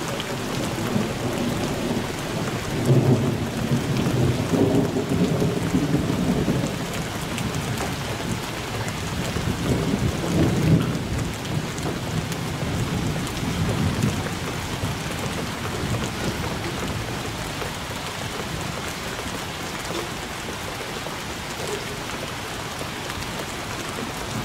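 Heavy rain pours steadily throughout a downpour, with deep rolls of thunder rumbling in the distance around the start and middle, no voices present.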